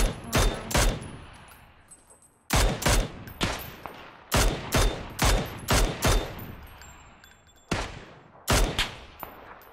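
Gunfire in PUBG on the Miramar desert map, loud close bursts of rapid shots in repeated clusters with echoing tails and brief gaps between volleys, no talk.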